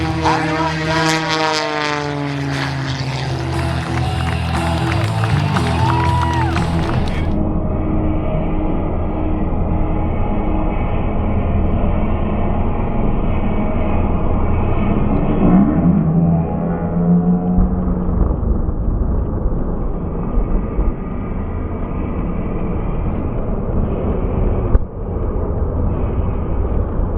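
At an air show, the Hot Streak jet truck races a stunt plane in front of a wall of fire, making a loud, sustained roar of jet and propeller engines that changes in character partway through and never lets up.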